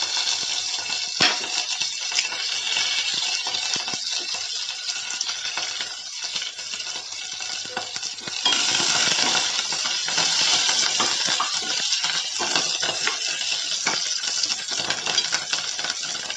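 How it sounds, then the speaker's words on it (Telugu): Garlic, curry leaves and onions frying in hot oil until golden, a steady close crackling sizzle with occasional sharper pops and stirring clinks throughout. "ఇవి కొంచెము గోల్డెన్ కలరు వచ్చే వరకు వేయించాలండి"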